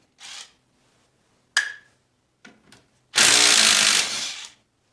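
Power tool backing 12mm bolts out of a machine that sat unused too long: a few short ratcheting bursts and clicks, then a loud, sustained whirring run of about a second and a half, close by.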